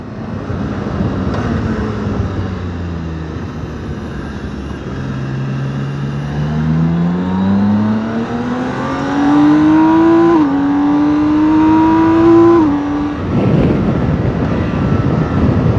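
BMW K1600GT six-cylinder touring motorcycle engine revving hard under acceleration, a loud, steady rising drone climbing in pitch over several seconds, then briefly dropping and surging again, heard close with wind rush and no talking.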